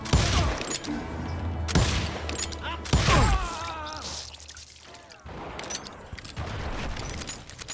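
Gunfire in the Western shooter game Call of Juarez: Gunslinger: loud, close bursts of shots and rapid volleys in several clusters, with a voice briefly audible between them.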